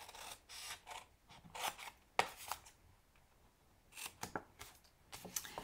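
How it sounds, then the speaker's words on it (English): Scissors cut paper up to a score line while making a Valentine box, several crisp snipping and rasping strokes in bursts with pauses between, close and fairly quiet, with no talking. "I'm gonna cut up to that second score line."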